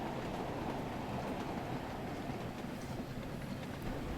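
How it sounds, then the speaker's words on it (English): A passing train on a busy route in Train Sim World 4, steady rumbling roar of rolling wagons with faint clickety-clack, constant and fairly quiet throughout. "there are passenger trains and freight trains coming and going"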